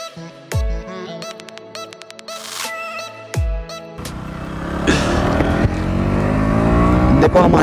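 A KTM Duke 200 motorcycle revs in sharp bursts with quick-shifter gear changes, then accelerates into a rising continuous engine roar heard up close.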